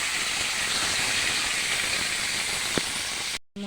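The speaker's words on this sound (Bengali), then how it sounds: "আমি এবার চিকেনটা দিয়ে দিচ্ছি।" About 200 grams of chicken going into a hot pan gives a steady, loud, even sizzling hiss that fills the whole stretch, with one faint knock near the end before the sound cuts out briefly.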